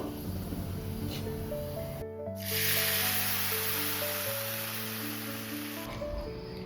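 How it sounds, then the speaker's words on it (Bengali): Fish curry broth is poured into a pan of tempered spices, a sudden rushing hiss that bursts in and holds steady for a few seconds before fading, over a faint background of tones. "এর মধ্যে ঝোলটা আমি ঢেলে দেবো"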